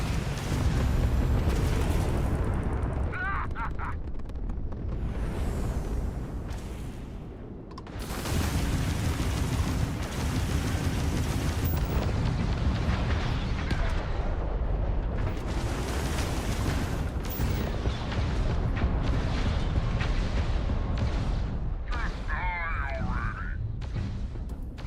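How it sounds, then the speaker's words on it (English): Missiles launch and burst in a Starfield spaceship battle, a loud, dense roar of booming blasts and rumbling explosions that runs continuously, with brief dips between volleys. "Keep forgetting to fire my missiles."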